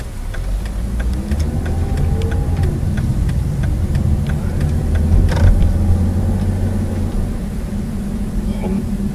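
Car traffic on the urban streets of Towada city, a steady rumble of passing vehicles with engines swelling and fading, a louder pass midway, plus scattered clicks and faint sounds in the background.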